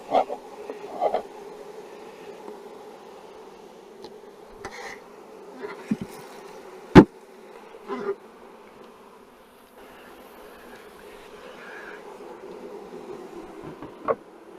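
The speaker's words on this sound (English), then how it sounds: "I just heard a tone change in the fanning of these bees." A faint, low buzzing drone of honeybees fanning in a queenless hive fills the recording, with a few sharp clicks and knocks breaking through now and then.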